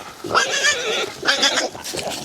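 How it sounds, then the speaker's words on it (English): Frightened pigs on a regenerative farm squeal in two sharp, close bursts, high and strained, followed by a fainter third cry. "That pig's squeaking."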